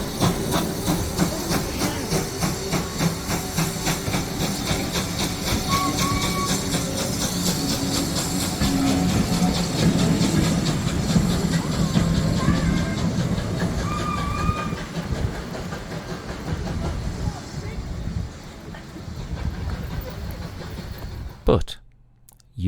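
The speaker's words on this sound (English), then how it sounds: "we waved the train away to do another trip in the rain" A Dean Forest Railway steam train departing Norchard in the rain, a loud steady rumble and hiss close by that fades toward the end, with voices heard over it.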